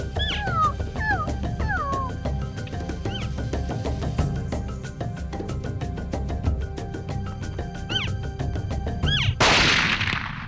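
A single sharp rifle shot during an elk hunt in New Mexico, loud and close, cracking near the end amid birdsong and outdoor ambience, with no talking.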